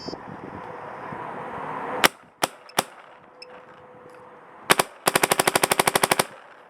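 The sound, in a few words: Pooty Clone spring airsoft gun shooting over chronograph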